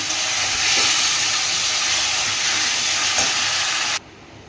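Loud, continuous sizzling of potatoes frying in a pan, with a couple of faint scraping stirs, then a sudden cutoff near the end.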